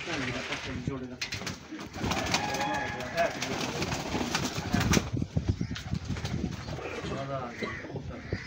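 Pigeons coo repeatedly close by, soft throaty calls layered under people talking, with occasional rustling and a flutter of wings.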